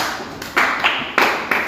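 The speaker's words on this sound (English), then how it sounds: "Yes, one clap for him." A lone audience member gives a clap at a religious talk about the ten plagues, a few sharp separate hand strikes standing out clearly against quiet room tone.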